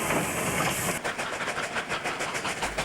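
A steam special with multiple locomotives pulls out of Tumbarumba on a New South Wales railway, heading back toward Wagga Wagga. Rhythmic chuffing exhaust beats ring out over a steady hiss and rail rumble at moderate distance.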